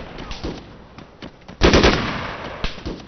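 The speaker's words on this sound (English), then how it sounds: "He's doing suppressive fire. He's in 3-round bursts." Suppressive automatic fire in 3-round bursts during an ARMA 3 video game firefight, with scattered muffled shots, then a louder close burst mid-clip and fainter reports trailing off.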